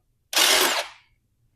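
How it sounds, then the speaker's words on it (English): A power drill countersinks a screw hole in wood for a fireplace makeover, giving a single close, loud grinding whir that lasts about half a second and then tapers off. "I'm gonna do something called countersinking it."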